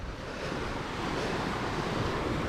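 Sea waves wash onto the shore of the Gulf of Mannar in a constant broad roar mixed with wind buffeting, swelling slightly toward the end without any talk.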